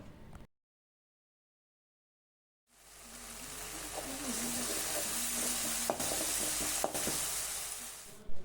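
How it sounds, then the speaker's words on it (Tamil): Fried mushrooms hit a pan of tomato sauce and set off a loud, steady hiss and sizzle after a moment of silence, with stirring scrapes over the frying. "பொறிச்சு வச்சுருக்கக்கூடிய மஷ்ரூம் எல்லாத்தையுமே நம்ம வந்து இதிலையே சேர்த்துடலாம்"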